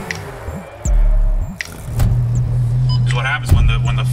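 A Nissan 240SX with a swapped 1JZ engine accelerates hard, the close engine note climbing steadily through the gears with a brief shift dip, heard from inside the car.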